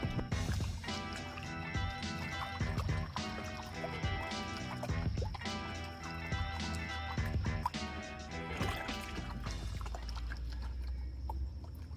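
A gold pan of dark material being rinsed in creek water, with steady close sloshing and splashing and rhythmic swishes as the pan is worked.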